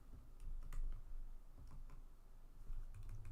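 Slow, uneven typing on a computer keyboard, soft scattered key clicks with pauses between strokes, fairly quiet with faint room noise.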